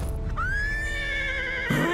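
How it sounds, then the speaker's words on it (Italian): In an Italian-dubbed Fireman Sam cartoon, a startled horse lets out one loud, drawn-out whinny, a high quavering cry held for over a second before a lower snort at the end. "Il fantasma di Ponti Pandi Pete ha spaventato un cavallo"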